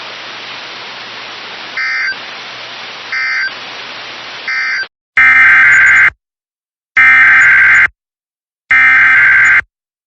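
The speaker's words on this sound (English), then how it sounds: "This has been a test of the NOAA weather radio warning alarm device." NOAA weather radio warning alarm test: static-like noise broken by three short beeps, then three loud, long steady tones separated by silent gaps, harsh and close.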